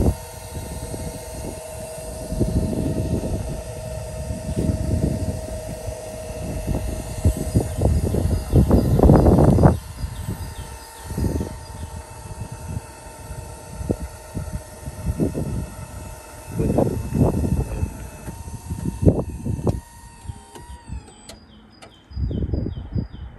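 AL-KO HY4 hydraulic levelling jacks retract on a motorhome, a steady pump hum running throughout with repeated low thuds and clunks as the supports draw in, ending with a few clicks.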